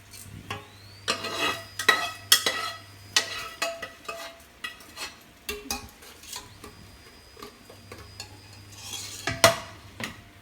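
A spoon scrapes and clinks around a metal pot as spiced tempering is stirred into a dish, with soft sizzling and a low hum in the background.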